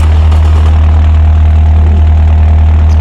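A 1940s racing car engine runs at a steady, loud idle, a deep continuous rumble with a constant low throb, close up and alone without voices.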